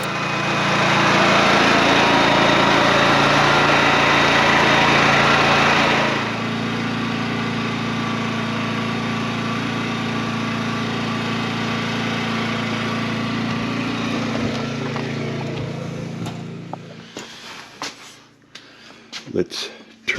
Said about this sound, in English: now we're ready to run the generator.